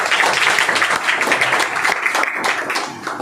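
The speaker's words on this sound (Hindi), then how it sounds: "एक जोरदार तालियां बजा सकते हैं।" Audience applause at a business seminar, a continuous dense patter of many hands clapping from start to finish.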